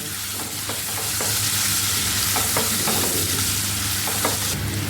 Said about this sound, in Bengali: আমি এখন সেই পেঁয়াজটাকে আমি এই তেলের মধ্যে দিয়ে দেবো পেঁয়াজটা দিয়ে আমি খুব ভালোভাবে ভেজে নেবো